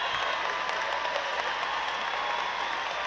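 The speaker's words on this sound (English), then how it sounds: "give him a round of applause for his effort right there" Steady, dense applause from a large crowd at the 88th National FFA Convention keynote, a continuous wash of clapping holding at even loudness throughout.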